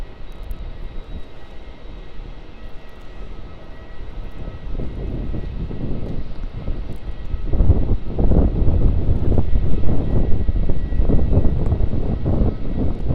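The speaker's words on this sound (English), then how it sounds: "on the runway now we have the Rex 737 taking off to Canberra" A Rex Boeing 737 takes off from the runway at Melbourne Airport, its jet engines building from a distant whine into a loud, rumbling roar over the final seconds, with some wind buffeting.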